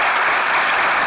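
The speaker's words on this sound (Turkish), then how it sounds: "Vallahi büyük bir alkış ekibe." A brief, dense burst of studio audience clapping on a Turkish comedy show, loud and continuous for about a second.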